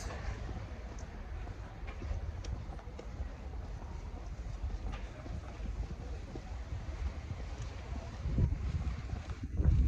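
Steady outdoor wind buffets the microphone for the full stretch, a continuous broad rumble and hiss with no speech, swelling louder toward the end.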